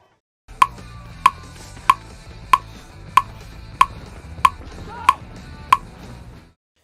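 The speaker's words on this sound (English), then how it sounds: "a metronome playing at 94 beats per minute" A metronome ticks at a steady 94 beats per minute, nine crisp, evenly spaced clicks standing out over a low background hum.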